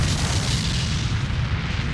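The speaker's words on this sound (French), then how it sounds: "L'explosion à bord du Kursk est si puissante" Powerful explosion aboard the Kursk submarine, rendered as a continuous deep, rumbling roar that fills the full two seconds with heavy low-end energy and no pauses or separate blasts.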